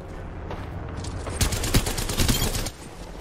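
Rapid automatic gunfire rattles in an Apex Legends match, a sustained close burst of shots peaking in the middle before cutting off, with no talk over it.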